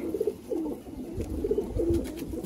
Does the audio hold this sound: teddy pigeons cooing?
yes